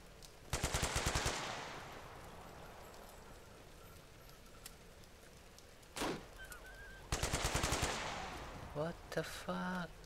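Automatic gunfire in the game Stay Out, heard as two long rapid bursts with a short sharp burst between them and a few scattered shots near the end, loud and close.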